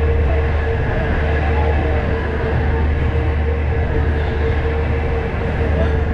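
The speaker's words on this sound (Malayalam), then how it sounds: "8:25 തന്നെ എറണാകുളം ജംഗ്ഷൻ റെയിൽവേ സ്റ്റേഷനിൽ നിന്ന് ഹരിസാഗർ എക്സ്പ്രസ് എടുത്തിരിക്കുകയാണ്" Marusagar Express sleeper train pulling out of Ernakulam Junction, a steady loud rumble of rolling coaches with a constant hum throughout, heard from on board.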